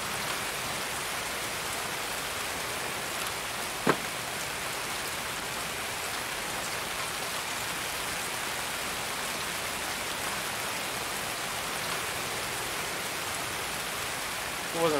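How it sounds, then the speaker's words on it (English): Steady rain hissing evenly throughout inside a train in the video game Escape from Tarkov, with a single sharp tone near the start and a small knock at the end. "Love how it's raining inside the freaking train."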